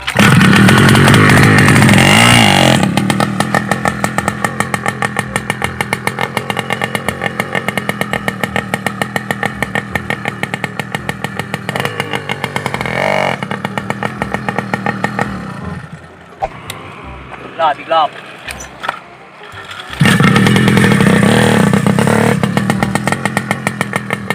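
Engine on a motorized bicycle fitted with a stainless steel exhaust tip, running loud and raspy for most of the stretch, then easing off briefly near the end before roaring back up.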